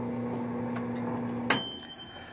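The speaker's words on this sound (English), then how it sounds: "only thing we got right now is a microwave. So I just turn it on there." A microwave oven's steady low electrical hum runs, then a bright beep sounds and its high tone lingers as the hum cuts off.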